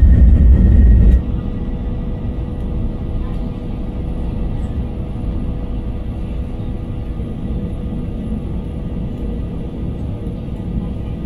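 Passenger jet taking off on a Bangkok to Kathmandu flight, heard from inside the cabin: a loud low rumble that drops slightly after a second, then holds as a steady engine drone.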